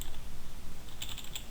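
A quick run of keystrokes on a computer keyboard, a number typed out in a handful of close, crisp taps clustered in the last half-second after a brief pause of lighter clicking.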